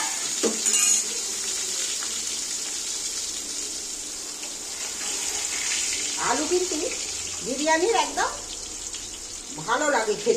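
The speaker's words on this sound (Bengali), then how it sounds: "আলুগুলো তেলের মধ্যে তুলে দিচ্ছি" Potato pieces frying in hot oil for chicken biryani give a steady, soft hiss throughout, with a person talking over it in the second half.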